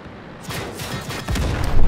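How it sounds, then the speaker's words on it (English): Artillery fire in World of Tanks: a run of booming shell impacts and blasts over steady engine rumble, growing denser and louder toward the end. "that's definitely artillery"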